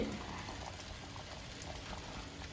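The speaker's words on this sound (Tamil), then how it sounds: "குழம்பு கொதிக்கட்டும்." A pot of sprouted horse gram gravy bubbles and simmers steadily with a soft, continuous frothy hiss, close by and fairly quiet, with no talking.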